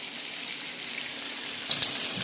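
Pieces of grass carp frying crisp in hot oil, a steady close hiss of sizzling with a brief louder crackle near the end, no talking.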